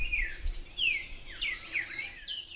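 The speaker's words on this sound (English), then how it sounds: "in flies an Andean motmot" An Andean motmot, a large 18-19 inch bird in La Florida, Valle del Cauca, Colombia, gives a series of descending whistled call notes, moderately near over faint background noise.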